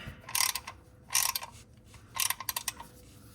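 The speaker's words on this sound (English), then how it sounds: "you're just gonna take the same 14 millimeter wrench, change it to tight, and you're just gonna twist it" A 14 mm ratchet wrench tightens the oil drain plug on a 2024 Toyota Corolla Hybrid, giving three short bursts of rapid, close clicking separated by brief pauses.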